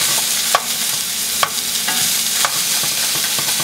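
Sliced onion, tomato and chopped chipotle frying in a pan, a steady broadband sizzle with a few sharp stirring scrapes and clinks at intervals, close and moderately loud, with no talking.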